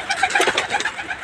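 A single pigeon, one of the breeder's birds, coos close by in a quick series of throaty, rolling notes that rise and fall over about a second.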